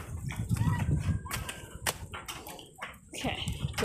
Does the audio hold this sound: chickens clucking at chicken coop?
yes